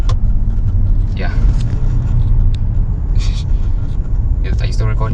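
A Mercedes-Benz E63 AMG muscle car with a fast multi-clutch gearbox gives a loud, steady low engine rumble throughout, with brief rising surges suggesting gear changes and faint voices in the background.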